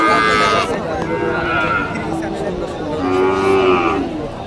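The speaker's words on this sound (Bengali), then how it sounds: "এখানে বাচ্চা গাভী গরু আপনারা দেখতে পাচ্ছেন" Cows and calves lowing at Bamundi cattle market, a busy livestock hat; several drawn-out moos rise over a crowded background of voices and market bustle.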